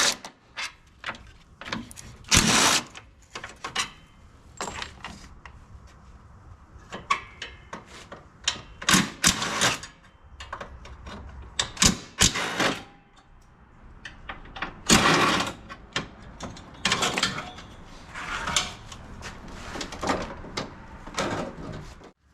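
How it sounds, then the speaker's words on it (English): A homemade converted 3/8 screw gun with a 10 mm socket works on an engine during donor engine removal, giving loud, close bursts of whirring and ratcheting separated by short pauses and clinks. "So nothing but a 10 millimeter homemade converted 3/8 screw gun."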